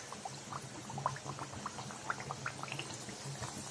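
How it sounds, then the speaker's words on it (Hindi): Dough pieces for crispy papdi deep-fry in oil over a medium-low flame, a soft bubbling crackle with scattered small pops, fairly quiet and steady. "मीडियम से धीमी आंच पे हमें पूरियां फ्राई करेंगे"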